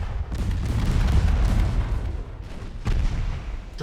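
Battleship naval guns firing in the Ultimate Admiral Dreadnoughts naval combat game, a dense run of heavy booming salvos and rumbling blasts that overlap continuously, loud and close.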